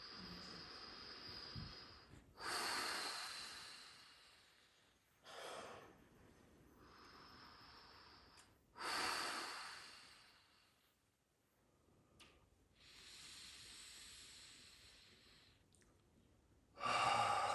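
During a chopstick finger massage, a person takes slow, deep breaths, with long airy inhales and exhales rising and falling in waves separated by quiet pauses, close and clear with no talk.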